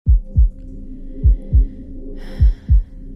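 A heartbeat from a song thumps in three steady double-beat pairs, deep and close, over a low hum with a faint airy wash near the end.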